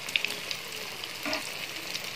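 Wheat-flour malpua batter frying in a pan over a medium gas flame, a steady close sizzle with a few small pops and a brief spoon stir, no voices.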